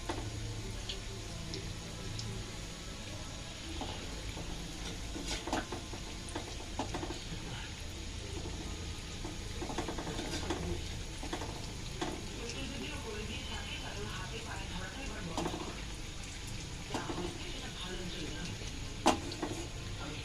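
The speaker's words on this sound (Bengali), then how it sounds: "এই যে আমার এক পিঠ ভাজা হয়ে গেছে, আমি এবার এটা উল্টিয়ে দিচ্ছি" Palm fruit fritters (taler bora) sizzle in hot oil while being flipped, a steady soft frying hiss with scattered clicks and scrapes of the utensil, fairly faint throughout.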